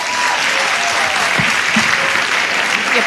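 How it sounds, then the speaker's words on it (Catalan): Final round of applause as a town council constitution session closes, a roomful of people clapping steadily and fairly close, a few faint voices murmuring beneath. "I aplaudiments finals."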